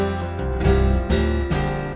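Acoustic guitar picked up by a small microphone mounted on a humbucker in a rare earth blend system, with strummed and plucked notes sounding close and full, plus body knocks and string noise, without any voice.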